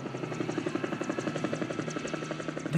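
A helicopter's rotor thumps in a steady, rapid beat under a constant engine drone, sounding fairly close and continuous throughout.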